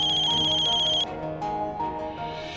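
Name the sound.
phone ringtone ringing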